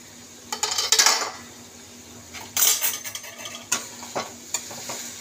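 A lid comes off a pot of fish oil cooking on the stove with sharp metallic clatters and scrapes in two main bursts, followed by a few lighter clinks over a faint sizzle.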